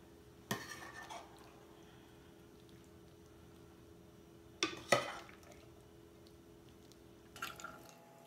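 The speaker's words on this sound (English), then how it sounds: "Then we're going to add the garbanzo beans with the juice together" Spoonfuls of garbanzo beans and their juice landing on bread for Lebanese fattet hummus, three separate soft wet clinks and splashes against a bowl, quiet and spaced apart with no talking.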